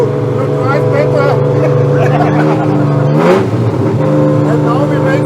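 A BMW 3.0 CSL Calder Art Car running loud and close, its exhaust holding a steady droning note with a brief rising rev midway, continuous and full throughout.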